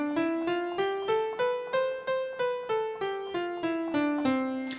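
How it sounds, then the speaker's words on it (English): Piano keys struck one at a time in a stepped scale, about ten evenly spaced notes rising then falling back down, each ringing clearly and decaying before the next, with no talking. "A scale sounds like this."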